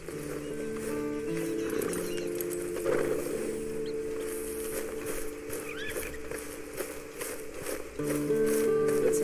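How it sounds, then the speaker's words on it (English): Horse hooves clip-clopping at a steady walk in Red Dead Online, moderately close under a tonal music bed and ambient game sound, with no talking. "Then you better get on this horse."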